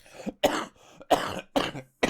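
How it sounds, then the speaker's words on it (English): Several harsh coughs in quick succession, close and loud, with short silent gaps between them. "Yes, the cough is still there."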